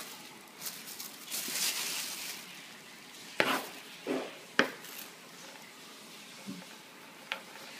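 A knife scraping and cutting thorns off cactus pads, soft rasping strokes punctuated by a few sharp clicks and taps of the blade, quiet and close.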